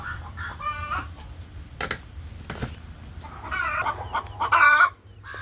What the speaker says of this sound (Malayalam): നമ്മളെ കുറച്ച് കോഴിക്കുട്ടികളാണ് കേട്ടോ